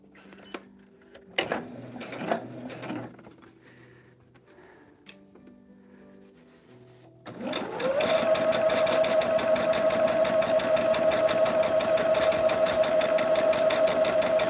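A sewing machine stitches a star block for a table runner, starting up after some quiet handling clicks and then running in a loud, steady, close mechanical hum to the end.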